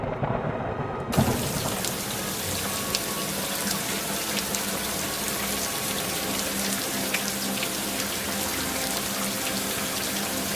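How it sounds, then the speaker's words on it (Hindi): Rain sets in suddenly and becomes a steady, dense hiss of falling water that keeps up without a break, loud and close, with no voices over it. "हे भगवान, बारिश होने लगी।"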